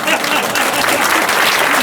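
A large crowd at a political rally outdoors near Seoul Station claps together in loud, dense, steady applause for the whole moment.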